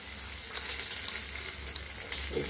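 Beaten egg hitting a hot pan for Tamil-style muttai poriyal, giving a steady, moderately loud frying sizzle with a brief burst of crackle near the end, no voices.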